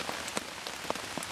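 Steady rain drums on an old tarp shelter at a wild camp in England in November, with a dense patter and scattered louder drops close overhead, no talking.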